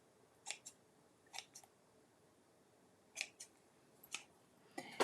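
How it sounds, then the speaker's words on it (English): Scissors snip the ends of a ribbon bow in a few short, crisp paired cuts spaced apart, close and clear against a quiet background. "Yeah, just need to trim the ends a little bit."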